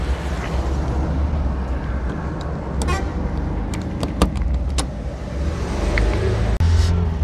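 Steady rumbling engine drone of an auto rickshaw while riding along a road, with passing traffic, a few short horn toots and clicks over the continuous hum.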